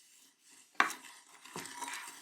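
A small baby spoon stirs brown sugar and cinnamon in a bowl, giving a quiet gritty scrape with a sharp clink near the start and a second softer swirl after, close and faint.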